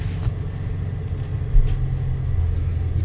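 An old 4x4 truck on its first drive in 15 years, tires leaking air, its engine a steady low rumble heard from inside the cab with a small bump midway.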